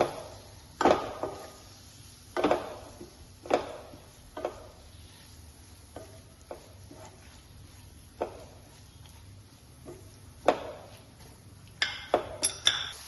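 Onions being stirred in a pan while cooking fish fry, with scattered metallic clinks and scrapes of a utensil against the pan, irregular and close, some sharp knocks and a quick cluster near the end.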